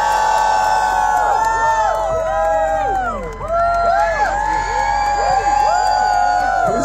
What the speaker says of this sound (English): You guys are screaming your ass off